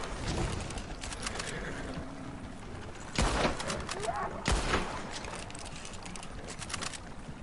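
Gunfire in a PS4 shooter video game: a few sharp, loud shots stand out against a busy game soundscape, with people talking over it.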